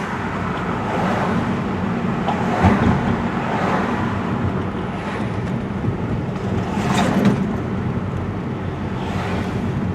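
Road traffic backs up through a construction zone in Aptos Village, with cars and a larger vehicle rumbling and passing close under steady wind buffeting on the microphone, rising in a few louder swells.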